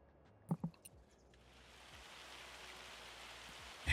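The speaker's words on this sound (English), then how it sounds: "Oh, hail." Hail in the video game Farming Simulator 25 builds from a faint patter into a dense, steady hiss of falling ice, preceded by a few soft thumps near the start.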